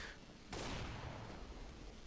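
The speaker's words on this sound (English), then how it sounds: "Now you can hear some gunfire." Distant bursts of gunfire in a CS GO match, a sudden muffled volley that rolls on as a rumbling, crackling wash with no voices.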